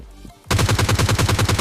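Rapid automatic gunfire in the mobile battle-royale game PUBG Mobile Lite: after a quiet half-second, a loud, steady burst of evenly spaced shots rattles on without pause, with no talk over it.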